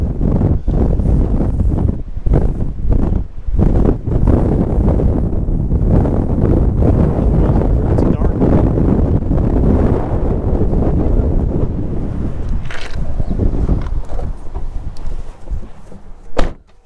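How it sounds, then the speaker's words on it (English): Wind buffets a microphone outdoors beside a 2016 Subaru BRZ Blue.Series, a loud, continuous low rumble with gusty thumps that eases near the end. "oh boys, get out of the wind."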